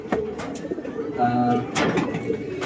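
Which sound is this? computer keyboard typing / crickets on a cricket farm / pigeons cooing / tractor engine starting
pigeons cooing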